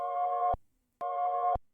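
One-shot sample in FL Studio, pitched up a full octave and reversed, played twice: a bright, buzzy harmonic tone swells for about half a second and cuts off abruptly, then repeats after a short silence.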